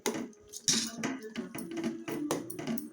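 A spoon scrapes and clinks rhythmically against a pot while stirring cucumber dal (dosakaya pappu), close and moderately quiet.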